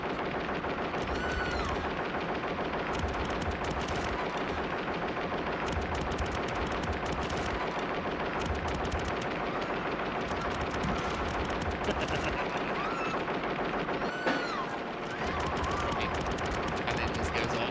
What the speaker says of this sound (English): I'm just gonna go to the part where it starts shooting